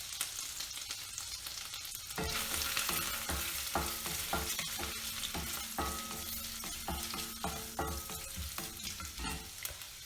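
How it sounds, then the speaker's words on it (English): Chopped garlic and ginger sizzling in butter in a pan, a steady bright fry that starts abruptly after a quiet moment, with irregular stirring scrapes and clatter throughout. "saute it until the raw smell of ginger and garlic goes away"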